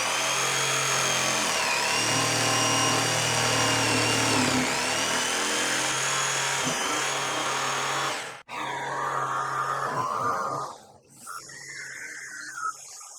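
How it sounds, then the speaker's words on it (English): A jigsaw held in a quick-release vise cuts a circular gear race plate, letting out a loud buzzing whine with shifting pitch as it works through the cut, then cutting out abruptly, followed by quieter scraping and a short final burst. "I can clamp that in my quick release vise and cut it out with the jigsaw."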